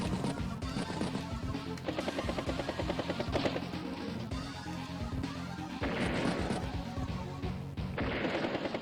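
A helicopter strike attack in the browser strategy game Advance Wars By Web: a dense, continuous barrage of loud crashing, gunfire-like bursts layered over game music for several seconds.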